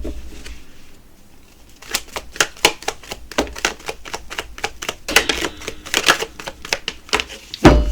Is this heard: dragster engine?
no